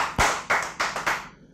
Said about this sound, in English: Round of applause for Lil Wayne.